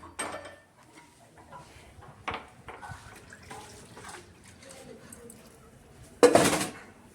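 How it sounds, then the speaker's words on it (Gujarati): Dishes clink and clatter in a sink with running water, a sharp louder clatter near the end; soft background noise throughout. "અત્યારે મમ્મી કામ કરે વાસણ ને ધોવા"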